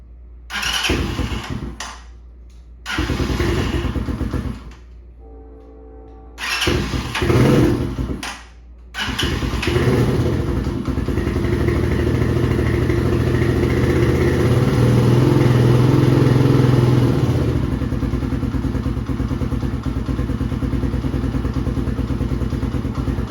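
A Tao Tao TBR7 dirt bike engine on choke cranks in three short sputtering bursts with pauses between, then catches and settles into a steady, loud idle close by.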